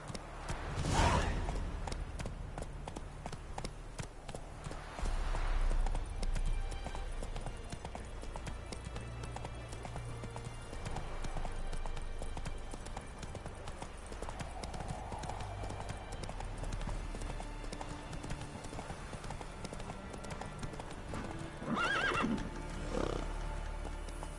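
A horse ridden in The Witcher 3 video game clip-clops steadily along with rhythmic hoofbeats, snorting and whinnying at a few points over a faint background, no talking.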